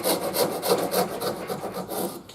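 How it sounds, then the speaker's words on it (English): A shinto rasp is drawn in steady, rhythmic strokes along the wooden edge of a bass guitar body, beveling it toward the fingerboard, with a close, even rasping scrape repeating about every half second and no talking. "getting the shinto and doing this"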